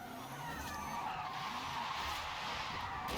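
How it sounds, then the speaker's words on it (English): Tires of a Hyundai Ioniq 5 N in a video game, running an all-wheel-drive setup without drift suspension, squealing continuously in one steady, harsh skid while the car slides, with no voices. "let's try to slide out with an all-wheel drive setup"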